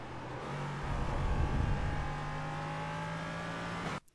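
An LMP3 race car runs flat out around Spa-Francorchamps in iRacing, its engine a sustained high-pitched howl with rising tone, no voices, cutting off abruptly near the end.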